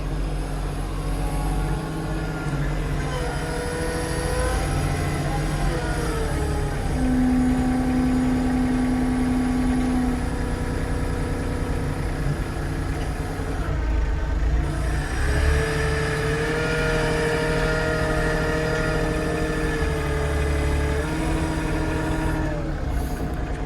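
A Kioti CK2610 compact tractor runs steadily while hauling mulberry logs to a brush pile, its engine drone continuous and fairly close, rising and shifting in pitch partway through with no talking.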